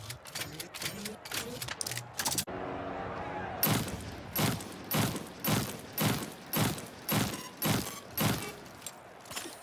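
A power weapon in the video game Splitgate 2 fires repeatedly as fast as possible, sounding as a rhythmic series of loud, punchy shots at a steady pace after an initial flurry.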